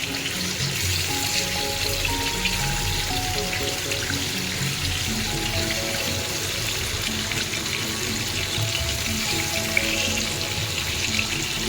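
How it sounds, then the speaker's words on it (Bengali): Hilsa fish pieces sizzle and crackle in hot oil in a pan, a steady dense frying hiss with occasional pops, close and continuous with no talking. "এক সাইডটা প্রায় ভাজা হয়ে গেছে, এখন এগুলোকে উল্টে দিই।"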